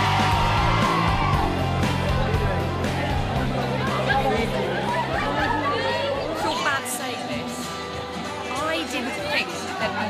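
A shop in France packed with fans screaming and cheering for a singer, a dense wall of shrieks, whoops and excited chatter that stays loud and continuous throughout.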